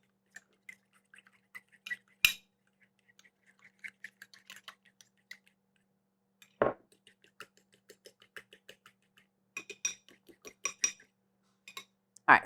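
Ingredients with a little cream being stirred in a bowl while cooking country style steak: sparse light scraping and clinking of a utensil against the bowl, with a few sharper knocks, close and fairly quiet, no talking.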